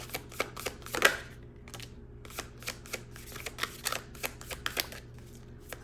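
Tarot cards are shuffled in quick, crisp riffles and slaps, a steady series of close, sharp bursts with brief pauses between them and no talking.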